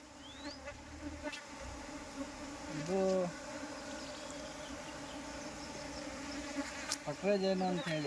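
Asian honey bees buzzing around a wooden hive box, a steady droning hum that runs through the whole clip, with a couple of louder passes as bees fly near.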